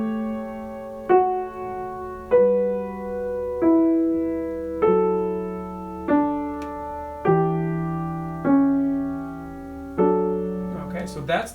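Piano plays a slow chordal passage from a Bach sarabande that resolves through a 7-6 suspension, about nine gentle chords sounding one after another with sustained decays, close and clear with no speech.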